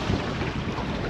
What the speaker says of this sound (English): it's freaking windy and crazy